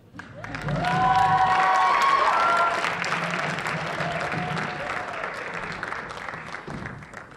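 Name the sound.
audience applause and cheering for a band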